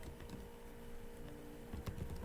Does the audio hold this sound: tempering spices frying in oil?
no